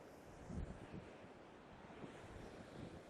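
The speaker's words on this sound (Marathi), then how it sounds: "पावसामुळे जरा जास्तच लाटा येत आहेत" Sea surf rolls and crashes against a rocky coast at Aare Ware near Ratnagiri during monsoon rain, with a steady roar of broken water and gusting wind buffeting the microphone.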